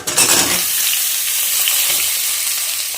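Potato and pumpkin pieces sizzle steadily in a hot pan of oil for a cauliflower curry, with a brief stir at the start, then an even, close, continuous crackle throughout.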